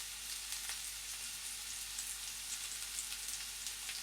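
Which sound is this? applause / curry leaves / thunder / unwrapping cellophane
curry leaves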